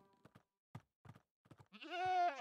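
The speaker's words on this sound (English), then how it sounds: "I knew there were goat horns, but I didn't know you could blow on them" A goat horn is blown in Minecraft, giving a loud, rising tonal blare near the end, after a few brief soft clicks and sounds.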